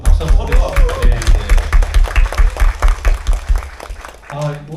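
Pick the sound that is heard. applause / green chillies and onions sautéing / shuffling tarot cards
applause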